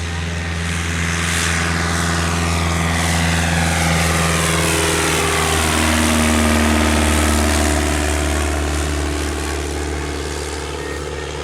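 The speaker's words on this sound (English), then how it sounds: "DA100 engine in it works superbly, and there's more than enough power." A World War 1 fighter plane with a DA100 engine idles on the ground, its propeller engine droning steadily and loudly with a slight rise and fall in pitch.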